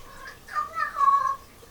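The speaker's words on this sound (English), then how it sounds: "that's the cat." A pet cat in a playful mood gives a couple of short, fairly close meows over a quiet room.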